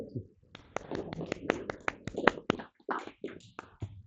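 A small audience at a political meeting in Nîmes applauds with sparse, irregular claps, individual hand strikes fairly quiet and close, fading after a few seconds.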